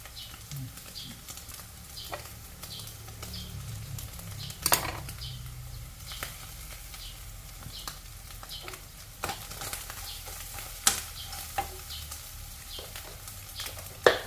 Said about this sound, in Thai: ใส่น้ำมันกระเทียมเจียวเข้าด้วยค่ะ